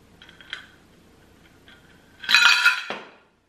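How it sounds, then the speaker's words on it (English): Several ice cubes drop into a cocktail glass for a peach cocktail, giving a bright, close burst of clinking and rattling after a few faint taps. "But we're going to put several ice cubes in."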